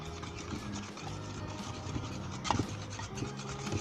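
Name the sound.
mixing flour into cake batter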